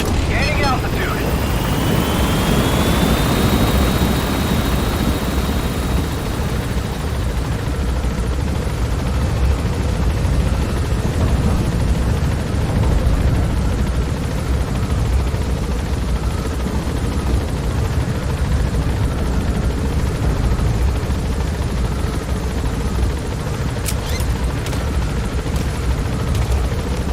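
Helicopter climbing in Metal Gear Solid V, a steady loud rotor and engine drone filling the whole stretch, with a rising turbine whine early on and a few sharp cracks near the end.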